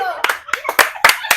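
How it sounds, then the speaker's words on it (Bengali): A few people at home clap their hands after an Eid phuchka eating challenge, giving five or six sharp, close claps in an uneven rhythm while a voice talks between them. "সবাই হাততালি।"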